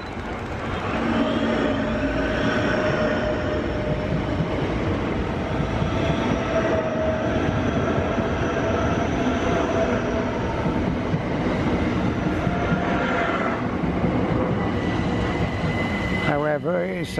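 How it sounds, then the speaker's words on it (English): A non-stopping train runs through platform 2 at Clapham Junction station, giving a loud, continuous rumble and rail roar that holds steady for the whole stretch. "it just said platform 2, non-stopping train, so I thought it'd be a freight"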